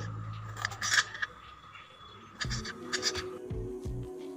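Knife cuts through ginger and garlic on a board in a home kitchen, a few quick, close clustered chops followed by a second run of cuts, with faint background hum.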